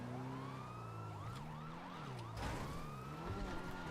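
Police car sirens in the GTA Online video game wail steadily with rising and falling tones, loud and close over a continuous engine drone, with a burst of extra noise partway through.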